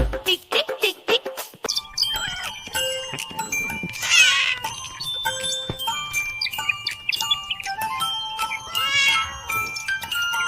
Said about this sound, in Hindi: म्याऊ म्याऊ बिल्ली करती म्याऊ म्याऊ